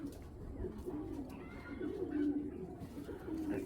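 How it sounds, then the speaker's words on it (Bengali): A female racing pigeon cooing up close, a low repeated throaty coo rolling on for several seconds over a soft steady background, with no talk. "দেখেন ভাই এটা মাদি কবুতর"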